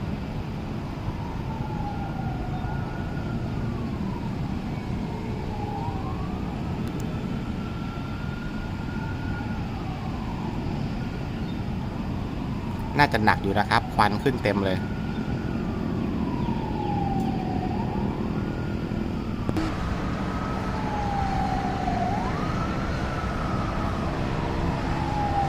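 A fire truck siren wails in slow rising and falling sweeps over steady traffic rumble on a Bangkok street during a house fire, while someone speaks briefly nearby.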